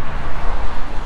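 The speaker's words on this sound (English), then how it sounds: "Sorry about the traffic next door." Steady road traffic roar from the M25 motorway beside a walking path near Epsom Downs in Langley Vale, Surrey, a loud continuous wash of passing vehicles with some wind on the microphone.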